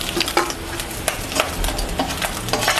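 Small chanda fish frying in hot oil, a loud close sizzle with sharp spatters and a few utensil scrapes over under three seconds, no talking.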